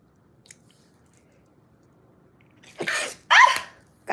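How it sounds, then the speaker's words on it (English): A woman sneezes twice in quick succession, close and fairly loud, after a quiet stretch. "I think I got to sneeze again."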